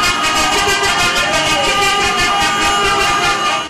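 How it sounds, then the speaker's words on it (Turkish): A convoy of 249 taxis crossing a bridge in Istanbul sounds horns and sirens together, producing a loud, continuous blaring wall of tones that holds steady from start to end. "Aziz şehitlerimiz siren ve kornalarla anıldı."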